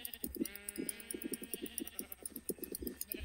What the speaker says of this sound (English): I see that one sheep back there